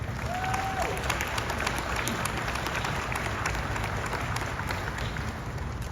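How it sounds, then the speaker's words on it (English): An outdoor crowd at the Pixar Place Hotel grand opening at the Disneyland Resort applauds the Great Maple team, with a continuous wash of clapping and some scattered cheering heard from a little distance. "Let's give them a round of applause."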